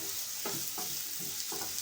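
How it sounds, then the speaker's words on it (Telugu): Onions frying in hot oil sizzle continuously, with rhythmic scraping strokes from stirring recurring about every third of a second. "ఉల్లిపాయ బాగా గోల్డ్ కలర్లోకి వచ్చే వరకు వేయించుకోవాలండి."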